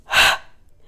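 A single sharp inhaled breath during an intermediate-to-advanced Pilates exercise, loud and close, lasting under half a second and then fading to near silence.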